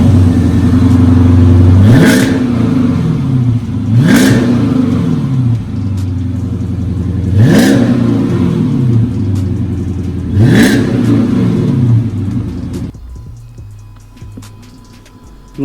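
A Dodge Challenger R/T fitted with Flowmaster Super 40 mufflers revs four times, each a loud, close rising roar falling back to a deep burbling idle, before the engine cuts off near the end.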